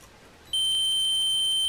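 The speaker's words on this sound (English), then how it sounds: "I'm just going to check if there is continuity." A multimeter in continuity mode tests the thermal fuse of a Gaggia Classic espresso machine, giving a steady, clear electronic beep that starts suddenly and holds unbroken to the end.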